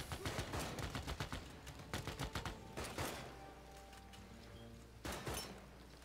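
Gunfire in the strategy game Civilization VI: rapid bursts of crackling shots, then a pause and a final sharp volley, loud and close with no voices.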